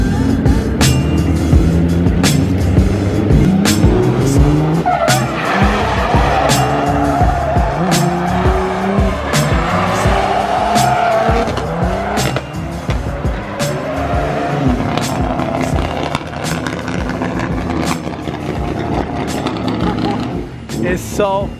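Loud BMW E46 M3 drift car revving hard with repeated tire squeal and skidding throughout, engine note rising and falling close by, with voices talking faintly underneath.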